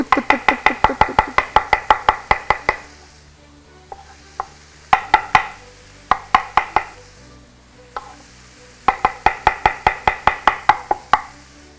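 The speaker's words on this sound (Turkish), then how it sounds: "Mantar suya doğrama kısmı." Mushrooms being chopped with a knife for a creamy mushroom chicken dish: three bursts of rapid, even chops, close and sharp, separated by quieter pauses with a few stray knocks.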